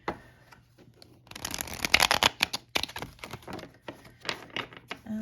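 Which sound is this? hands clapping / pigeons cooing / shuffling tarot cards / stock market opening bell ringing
shuffling tarot cards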